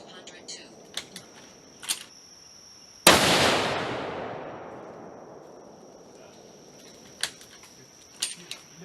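A single loud rifle shot from a Winchester Model 70 in .270 WSM cracks at an outdoor range, followed by a long decaying echo, with faint clicks and talk around it.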